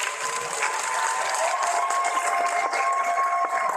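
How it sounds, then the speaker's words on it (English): A crowd applauds an adult education graduating class, with dense, steady, loud clapping that holds evenly throughout. "Can we give them a round of applause?"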